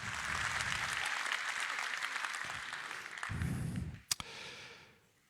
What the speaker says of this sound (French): je voudrais qu'on les applaudisse également.